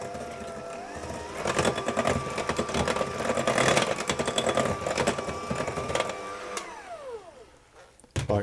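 Electric hand mixer beating blondie batter just after the flour goes in, a steady whirring motor drone that holds for several seconds, then winds down and stops near the end.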